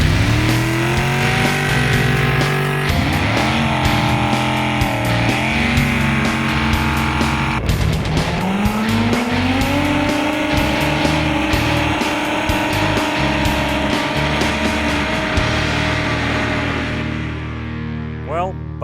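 Tractor-pulling machines with V8, V12, petrol, diesel, turbo, blown and jet turbine power roar loud and continuous on the track, engines revving and surging as wheels spin, with talk faintly mixed in.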